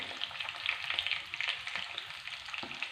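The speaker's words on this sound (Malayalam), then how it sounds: "മീഡിയം ഫ്ലെയിമിലിട്ട് നമുക്കിത് ചെറുതായിട്ടൊന്ന് ഫ്രൈ ചെയ്തെടുക്കാം" Chicken sizzles on a medium flame, a dense crackling fry with small popping bursts throughout, close and fairly quiet with no voices.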